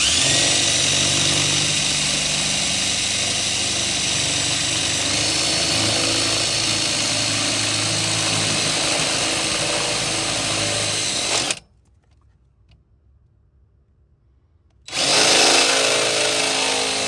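A power drill opens rivnut holes in a campervan's body, a loud continuous whine close by that runs for about eleven seconds, stops abruptly into near silence, then starts again at the end.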